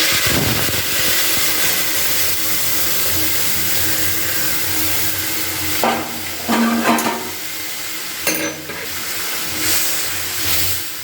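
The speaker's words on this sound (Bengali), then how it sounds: "রসুনগুলো পুরো লাল লাল করে ভাজা হয়ে গেছে এবার আমি ডালটাকে ঢেলে দিচ্ছি এর মধ্যে" Hot oil with deep-red fried garlic sizzles loudly and steadily as masoor dal with spinach is poured into the pan, with a couple of louder hissing bursts near the end.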